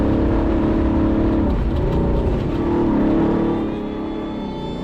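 Off-road race car running at almost 60 mph, its engine roaring loud and steady with rising and falling revs throughout, close up, no voices.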